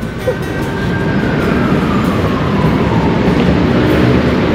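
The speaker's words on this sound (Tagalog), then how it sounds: "Ayan na pa parating ang train." Train arriving at a station, a loud, steady rumble of wheels and rails with a faint squeal, close by and building slightly.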